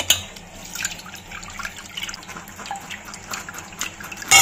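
Tamarind squeezed by hand in a bowl of water, with soft wet squelching and light splashing and dripping that keep on steadily at close range, with no talking.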